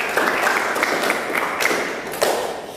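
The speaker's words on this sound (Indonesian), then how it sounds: "Tepuk tangan lagi untuk Anda semua." A school class applauds, a fairly close patter of clapping hands with some louder individual claps and light thuds, continuing steadily before easing off.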